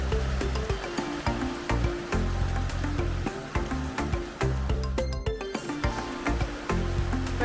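High, fast river water in Rivelin Valley, Sheffield, roars loudly and steadily up close, with a constant churning rush and a low tonal hum running beneath it.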